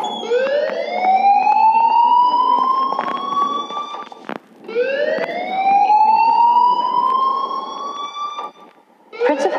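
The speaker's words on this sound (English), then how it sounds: "please turn off that alarm since that's your job" A loud rising electronic alarm wail sweeps upward twice in long cycles inside a school building in the Life is Strange video game, and a second cycle starts after a short break.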